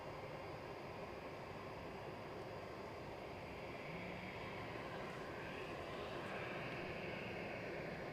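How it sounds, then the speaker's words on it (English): A Brussels Airlines airliner in spotty livery at Edinburgh Airport gives off a faint, steady engine rumble that builds a little toward the end, heard at a distance. "Brussels Airlines are going to come out these bushes wearing the"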